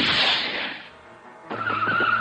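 Car tires skidding in a long, bright screech that fades away, followed by an engine note and a loud squeal starting up again, heard near and fairly strong with no talking over it.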